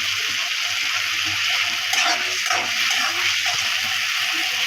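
Chopped tomatoes go into spices frying in a pan, raising a steady, close sizzle with some stirring disturbance midway; no one speaks.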